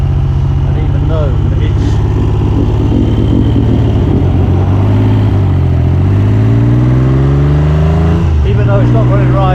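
Triumph Trident T160 three-cylinder motorcycle misfiring while being ridden on country roads in the Peak District. A loud, close engine note throbs throughout, its pitch rising and dipping with the throttle, plus wind rumble.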